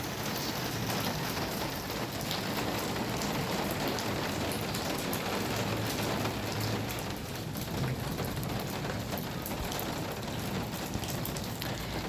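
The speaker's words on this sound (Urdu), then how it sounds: "پھر سے بارش تیز ہو رہی ہے۔" Steady downpour in Quetta amid strong winds and hail, a thick unbroken roar of rain striking nearby surfaces, loud and even from start to finish with nobody speaking.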